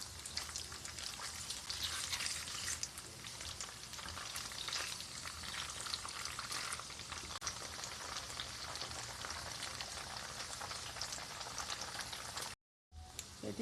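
Tofu sizzling in oil in a pan after being flipped while braising, a loud steady crackle and spatter that cuts out briefly near the end.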